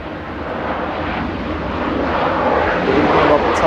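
An airliner landing from Porto at Manchester Airport produces a steady broadband engine rumble that grows slightly louder toward the end, close and continuous.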